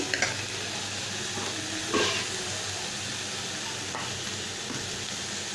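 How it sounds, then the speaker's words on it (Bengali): Onion, chili and vegetables fry in a pan, giving a steady sizzling hiss throughout with a few soft stirring scrapes, close and continuous with no talk. "পেঁয়াজ মরিচ লাল করার সঙ্গে সঙ্গে একটু আমি সবজিগুলো এটাতেই লাল করে নিচ্ছি"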